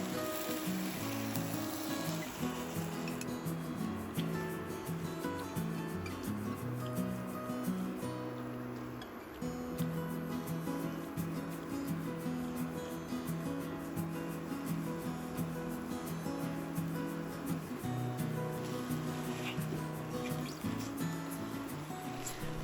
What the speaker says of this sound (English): Now stir fry everything together for about 30 seconds